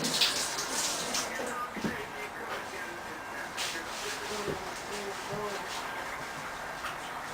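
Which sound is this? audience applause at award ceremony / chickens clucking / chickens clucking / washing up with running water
washing up with running water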